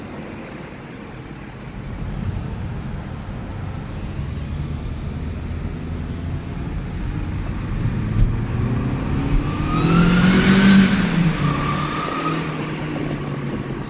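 A Mercedes C-Class W203 engine pulls through first gear, its drone building steadily in loudness and pitch as it accelerates, peaking near the end with a rising rev sweep, heard from close by without speech.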